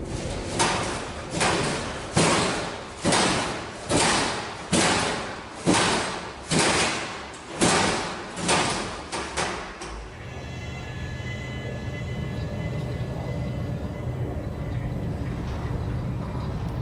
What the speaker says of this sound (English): All the doors closing and opening and lockers just opening by themselves were enough to prove that it wasn't staged.